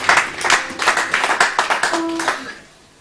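A church congregation applauds and acclaims in praise during a worship service, a loud, dense burst of hand claps with some voices and a brief sustained tone mixed in, fading out near the end.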